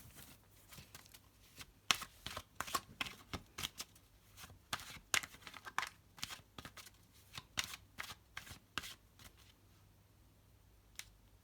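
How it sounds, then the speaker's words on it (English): Tarot cards are shuffled by hand in soft, quiet riffles and taps, an irregular run of close crisp flicks continuing for several seconds with no talking. "I've already shuffled before I've started, but I'll do a little bit more of that on camera"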